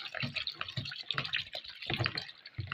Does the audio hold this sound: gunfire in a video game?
no